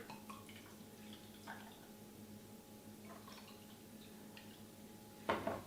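Beer poured over clamato in a glass to build a michelada, quiet trickling and dripping with a few soft clinks and a short louder splash near the end, close by with no talking.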